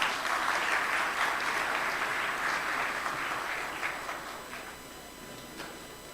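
An audience at a medical talk on obstetric hemorrhage claps to welcome the speaker. The applause is full and steady at first, then gradually thins and fades toward the end, with no talk over it.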